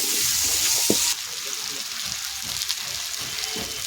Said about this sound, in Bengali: কুমড়ো আর আলু এবার ভালো করে কষিয়ে নেব